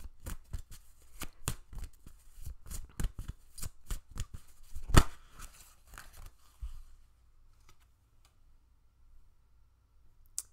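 A deck of tarot cards is shuffled by hand in a rapid series of crisp riffling snaps and clacks for several seconds, then quieter handling and a few faint taps, with no talking.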